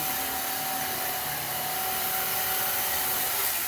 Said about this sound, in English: So I use a bread knife. Some people use a standard one. I have an electric one.